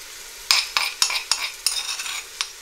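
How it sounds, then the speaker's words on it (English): Ginger and garlic paste frying in a pan for green pea pilau, with a gentle sizzle and a series of sharp spoon scrapes and clinks against the pan, roughly one every half second, heard close up. "it's time to add the ginger and garlic paste. I'm just going to fry this together now."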